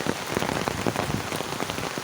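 Close rain drumming on a surface, heavy drops striking in a dense irregular patter, loud and continuous.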